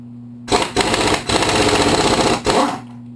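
An air-powered impact tool hammers loose the flywheel on a Kawasaki KLR engine during a teardown, loud rapid rattling bursts in three close runs separated by brief pauses, with the compressor-driven tool alone and near.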